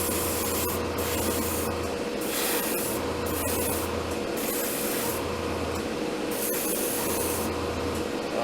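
An airbrush sprays paint onto the interior of an Academy SBD-5 Dauntless model aircraft, a steady close hiss of air interrupted by regular short pauses, with a faint low pulsing compressor underneath.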